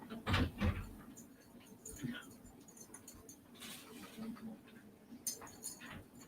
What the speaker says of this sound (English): She's an old dog.